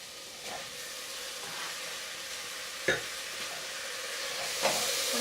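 Tomatoes hit a hot pan over medium-high heat with toasted wild rice, sending up a steady soft sizzle and hiss, with a few sharp clanks of a utensil stirring against the pan.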